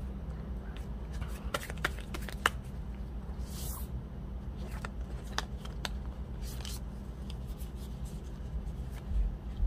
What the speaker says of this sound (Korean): 여러분들의 조언 카드 뽑아보고 맞춰보도록 할게요